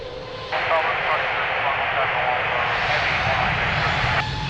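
An airplane takes off from the runway at Lisbon Airport, its engine roar rising suddenly and holding steady and loud for several seconds while radio voices murmur underneath.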